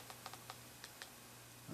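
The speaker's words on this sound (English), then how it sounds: "I'm typing on the keyboard here." Several light key clicks on a Cideko Air Keyboard tapped at an uneven pace over a steady low hum, quiet and close, with a brief louder bump at the end.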